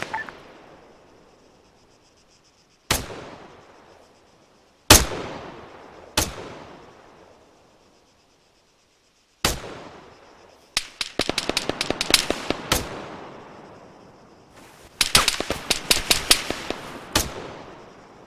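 Sharp gunshots ring out in the Arma III video game, starting as sparse single cracks with long decaying echoes, then rapid bursts of automatic fire, loud and close with no talking.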